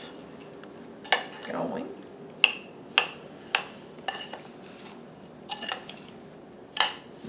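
A spoon stirs blackberry cobbler filling in a dish, giving about eight sharp clinks and scrapes spaced irregularly over a quiet background, with a brief spoken word.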